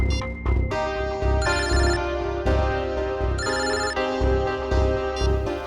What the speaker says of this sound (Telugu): నేను ఇప్పుడే నమ్రతకి ఫోన్ చేస్తాను.